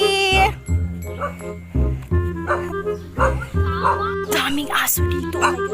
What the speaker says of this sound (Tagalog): Daming aso dito.